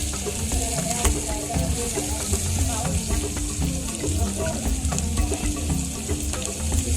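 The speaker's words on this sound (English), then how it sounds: "So I will mix onions together with green pepper." Onions and green pepper sizzling and frying in a pan over charcoal while being stirred, a continuous close hiss with scraping and clinking stir strokes throughout.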